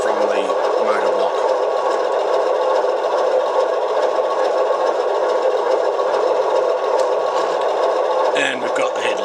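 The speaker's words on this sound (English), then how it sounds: "So when you rev up, that sound changes, and you see we've got successful motion as well from the motor block." A steady electric whine and hum from the motor block of an LGB 2062 model diesel locomotive runs close and even for the whole stretch, with a brief shift near the end.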